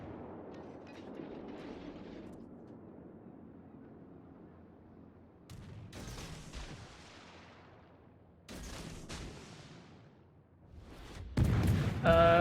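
Naval guns boom in the World of Warships game, several heavy salvos landing as separate blasts with rumbling tails, moderately loud, the last burst sharper and closer.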